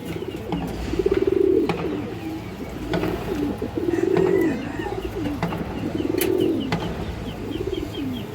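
Pigeons offered for sale cooing up close, a series of rolling, throaty coos repeating every second or two with soft clicks and rustles between them.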